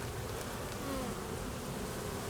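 Honey bees drone in a thick, steady buzz at an open hive during a January inspection, close and continuous with no talking.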